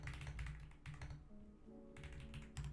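Computer keyboard typing at a trading desk, a quick run of faint, close clacky keystrokes in short bursts.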